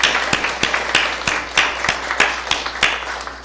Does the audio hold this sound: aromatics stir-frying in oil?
no